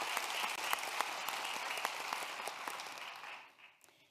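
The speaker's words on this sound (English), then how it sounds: "let's give her a round of applause" An awards-ceremony audience claps in a steady round of applause, moderately distant and even, fading out over the last second.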